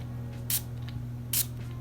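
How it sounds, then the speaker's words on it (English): A Dunhill Icon cologne atomizer sprays twice, two short crisp hissing bursts about a second apart over a low steady hum. "Go ahead and get the cap off and spray this one on."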